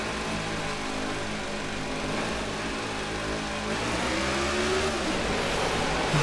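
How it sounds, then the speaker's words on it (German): A damaged race car engine in NASCAR The Game 2013 drones in a continuous, steady buzz. Near the end the pitch bends down and then back up, as on a shift or throttle change. "Jetzt haben wir einen leicht kaputten Motor."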